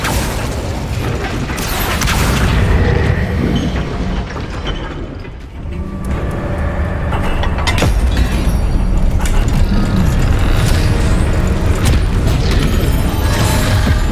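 Incendio fire spell cast in Hogwarts Legacy, a loud sustained whoosh of flame with crackling bursts and heavy low rumble, blended with mechanical clatter and crashing impacts throughout.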